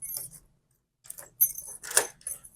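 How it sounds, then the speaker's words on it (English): A key turns in a Ulecoce keyless entry deadbolt door lock, giving close metallic clicks and scrapes in a few short bursts with a brief quiet pause, ending in a sharper unlocking clack. "Key works there to unlock it"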